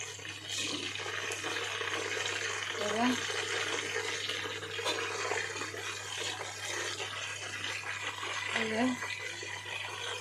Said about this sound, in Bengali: এই যে আমি একটু লাল করে ভাজি, সাদা রাখি না।